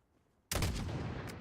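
A single sharp sniper rifle shot in the video game Call of Duty Modern Warfare, a loud sudden blast with a sustained booming tail, alone without talk.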